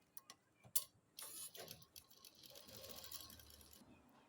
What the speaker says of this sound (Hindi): यहाँ मशीन चलाएंगे हम